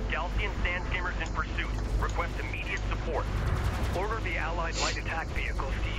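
Gunfire and combat noise from the video game Homeworld: Deserts of Kharak form a dense, continuous din, with someone talking excitedly over it throughout.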